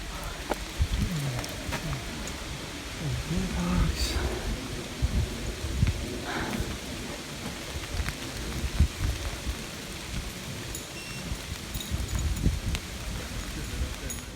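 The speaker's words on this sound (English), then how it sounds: "It is raining." Steady rain patters on surfaces nearby on the Appalachian Trail near McAfee Knob, a soft continuous hiss with scattered drips and faint low rumbles of thunder.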